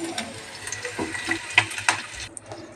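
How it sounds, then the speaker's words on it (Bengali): Potato pieces fry in hot oil in a pan, giving a steady low sizzle broken by brief scraping stirs and small sharp crackles close by. "এই দেখো আমার আলুটা ভালো করে ভাজা হয়ে গেল"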